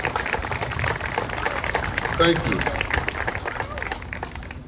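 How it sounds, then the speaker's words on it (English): Audience at an Alamo letter monument dedication in Crockett, Texas applauding county and city officials with moderate steady clapping, as a voice briefly speaks over it. "give you a round of applause"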